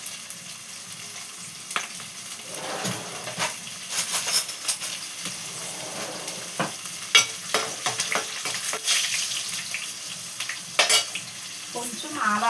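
Garlic cloves frying in hot oil in a pan, crackling and spluttering with scattered sharp pops, steady loud sizzle and occasional stirring, close up.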